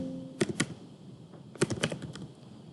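Fingers tapping a computer keyboard in two quick bursts of clicky keystrokes a second apart, close and fairly quiet against a low background hum.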